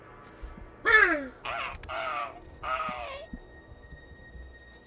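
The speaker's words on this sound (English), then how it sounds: "the first crows come out" Crows caw in a radio theater sound effect set in an early-morning cornfield, four harsh calls in quick succession at moderate distance over a quiet background, followed by a faint lingering tone.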